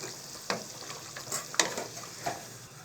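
Yogurt being stirred into a chicken kofta curry in a pan, a soft sizzle with a few scattered scraping strokes of a spoon, no voices.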